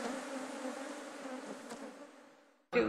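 A dense swarm of honeybees is swept onto a man's body for a bee-bearding display, giving a continuous close buzzing drone that ends with an abrupt knock.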